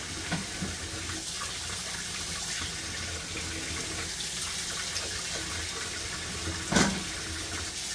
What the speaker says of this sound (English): I'm just going to run some hot water